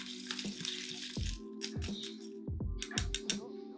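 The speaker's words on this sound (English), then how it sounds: "I like to give it a little stir just to lift the fruit up into the drink" A spoon stirs a Wisconsin Old Fashioned cocktail with fruit in a glass, giving repeated close clinks and scrapes in uneven rhythm over a quiet background hum.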